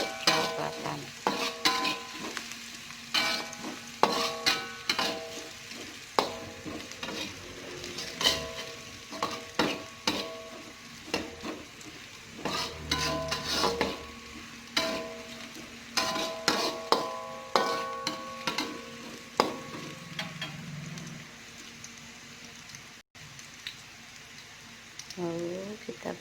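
Bean sprouts stir-fried in a pan until fragrant and browned, with steady sizzling broken by repeated scraping and stirring clatters of a utensil against the pan, close and fairly busy throughout.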